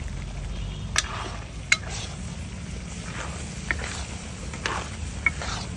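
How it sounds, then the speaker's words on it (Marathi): Sev being stir-fried in a pan for shev bhaji gives a soft steady sizzle, with intermittent sharp clicks and scrapes from a spoon against the pan. "आता हे आपण भाजीची शेव त्यात टाकणार आहे। पाच मिनिटं आपण असंच परतत राहायचं याला।"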